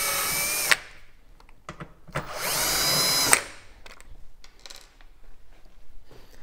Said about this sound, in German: also drehe ich die beiden Schrauben raus.